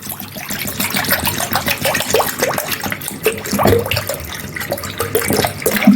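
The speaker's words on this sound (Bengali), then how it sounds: "রসনার শরবতের জন্য আমি দিয়ে দেবো ঠান্ডা জল।" Cold water poured from a jug into a glass for a homemade Rasna sherbet, a steady splashing, gurgling stream running close and fairly loud for the whole stretch with no talking.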